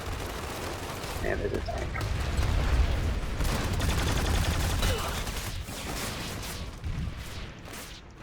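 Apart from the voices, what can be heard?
sniper gunfire in video game Planetside 2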